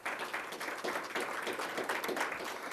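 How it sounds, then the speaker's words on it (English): Faint, steady clapping from a meeting audience honours a police chief at a public safety session, the applause rippling evenly throughout and heard somewhat distant. "I do believe he gets a great round of applause"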